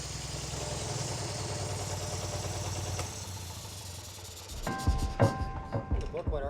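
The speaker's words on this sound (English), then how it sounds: "Gee, it even idles." Tank engine running after sitting unused for over 20 years, a steady low rumbling idle that fades, then a voice and clattering sounds near the end.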